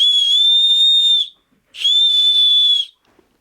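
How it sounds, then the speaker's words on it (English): Safety whistle built into a Leatherman multi-tool, blown in two long, loud, shrill blasts of about a second each, separated by a short pause, with no talk. "is a safety whistle"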